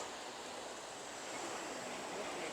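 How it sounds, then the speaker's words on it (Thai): Water tumbling over rocky rapids at Kaeng Pla Kaeo near Ban Bung Khiao, a steady broadband rush like a small waterfall, continuous and fairly close with no voices. "ว่าตรงกลางจะมีน้ำไหลอยู่ตรงนี้ พอดีคล้ายๆน้ำตกพอดีเนาะ"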